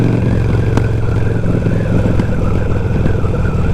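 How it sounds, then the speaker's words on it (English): A Harley-Davidson Sportster fitted with loud exhaust pipes rides through traffic, its engine note steady, close and loud, with a deep throbbing burble throughout and a brief sharp crackle. "You're going to hear it again as we're moving through this traffic."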